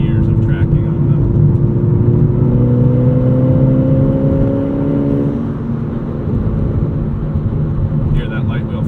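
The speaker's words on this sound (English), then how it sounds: "Hear that lightweight flywheel kind of buzzing." A 2008 Volkswagen GTI 2-door manual with a lightweight flywheel gives a steady engine buzz and whir, its tone rising then easing, close and loud inside the cabin as people talk over it.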